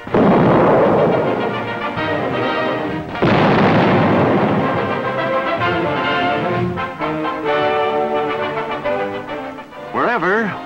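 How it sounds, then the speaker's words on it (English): Heavy guns fire during a wartime alert in 1943 North Africa or Sicily, loud booming blasts and rumbling bursts across the clip, mixed with a narrator's voice and music on an old newsreel soundtrack. "they're right there when the guns start blazing."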